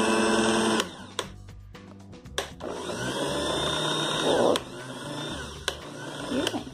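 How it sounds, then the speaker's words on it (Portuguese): Electric mixer whipping coffee into a thick cream, a whirring motor hum interrupted by several sharp knocks and clatters, with someone speaking over it. "Já deu 15 minutos e eu vou desligar a batedeira."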